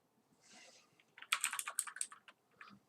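Quick bursts of keystrokes on a computer keyboard near a work laptop, faint clicks clustered in a rapid run with a brief pause.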